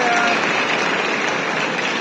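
An audience at the Nest Fest 2025 event claps for guests, producing a dense, steady wash of applause from a crowd.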